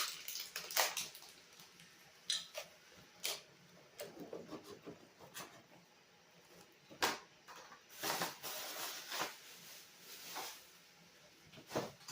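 Blueberries being washed in cold water in a home kitchen for jam, with intermittent splashing and rinsing bursts and small clatters, close and moderately loud, no talking.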